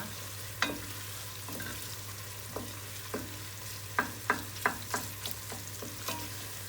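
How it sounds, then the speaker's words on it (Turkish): Tomato paste and vegetables sautéing in a pan give a soft, steady sizzle under repeated light scrapes and taps of a spoon stirring, close and fairly quiet. "Biraz da sebzelerle soteliyorum salçamı."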